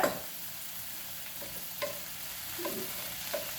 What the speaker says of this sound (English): We're just going to let this stir in here just a little bit longer until everything looks crispy.